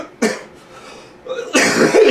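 Two harsh, close coughs with a brief quiet gap between them, the second longer and rougher.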